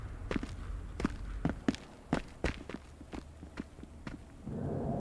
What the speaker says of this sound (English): I swear I'm hearing footsteps